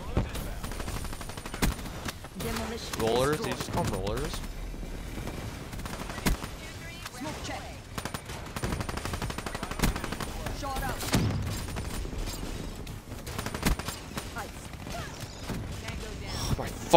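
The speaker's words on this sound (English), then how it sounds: "hey, sentry gun!" An automated sentry gun in a video game fires in rapid repeated bursts that rattle throughout, mixed with other game noise and mechanical clatter, under intermittent voices.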